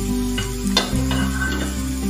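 Grated carrot and green chilli fry in a pan with a loud, close, continuous sizzle and a few scraping stirs over a low hum, with no talking.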